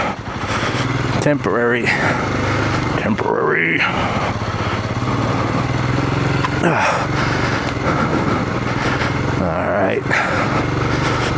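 Off-road vehicle engine running on a rocky trail, a close, steady motor drone with revving surges and jolts over the rocks, with someone speaking briefly over it.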